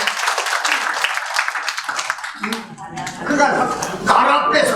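Audience clapping breaks out during a Korean lecture, a brief burst of crisp hand claps at moderate volume. After a couple of seconds it gives way to someone speaking over fading applause.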